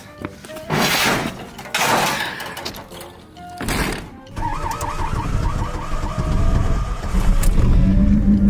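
A Chevy S10 pickup with a 2.2 engine cranks in a couple of separate bursts, then catches and settles into a steady, rumbling idle close by.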